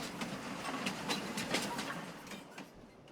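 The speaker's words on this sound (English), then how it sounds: "you can't hear me because of a train." A train rolls past in the Farming Simulator 22 farming game, a steady rumbling wash with rhythmic clattering of wheels on rail joints, fairly loud and unbroken for a few seconds before easing off near the end.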